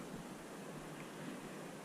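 A river pours steadily into a mountain lake in a wilderness area, giving a faint, continuous broadband rush of moving water with no voices.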